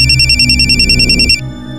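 A telephone rings loudly and close in an electronic warbling pattern, then cuts off abruptly near the end, leaving a low room hum.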